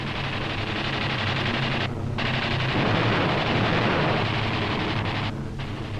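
Machine gun fire from a Spitfire Mk VA fighter in the Battlefield 5 video game, a loud, dense, continuous roar of rapid fire blended with engine noise that runs unbroken for the whole stretch.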